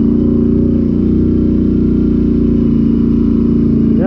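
A Polaris Sportsman ATV mudding on a rocky trail, its engine droning loud and steady up close with a hum that rises slightly near the end.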